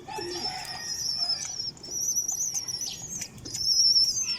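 Pigeons flapping their wings and cooing nearby, with bursts of wingbeats and soft coos over a light chirping background, no talking.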